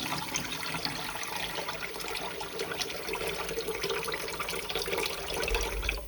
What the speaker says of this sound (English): So we just drain that out.